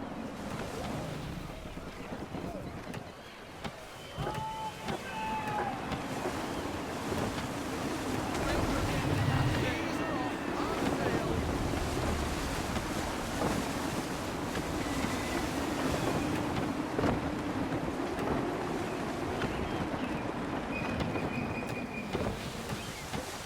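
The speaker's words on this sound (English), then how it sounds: "Wind looks to be shifting. Stay alert, Connor. Gusty winds can be difficult to manage." Gusty wind and ocean waves at sea in the video game Assassin's Creed III, a steady broadband rush of wind and surf with a low rumbling bed, continuous and fairly loud throughout.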